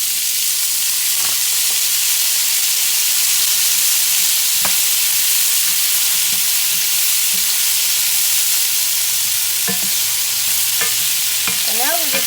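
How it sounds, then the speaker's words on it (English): Green beans sizzle loudly in hot bacon grease in a pan, a continuous dense frying hiss that stays steady throughout, with occasional light clinks of stirring. "we're going to add the green beans. And it is going to sizzle for a second"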